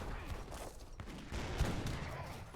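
Dense, rumbling battle din from a strategy video game, with culverins and heavy cannons firing amid scattered gunfire, forming a constant wash of booms and cracks with no clear pauses.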